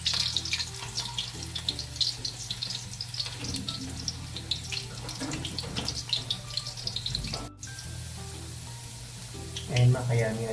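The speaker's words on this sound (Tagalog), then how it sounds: "Ipipirito lang po natin ng bahagya." Potatoes fry in a hot pan for a pochero dinner, giving a steady, close sizzle with occasional clinks and scrapes. A brief sharp click comes near the end.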